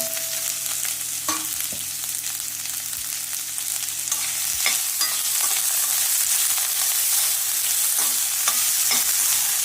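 Chopped onion, a green chili and coriander leaves frying in a pan, a continuous close sizzle broken by occasional spatula scrapes and taps, no voices.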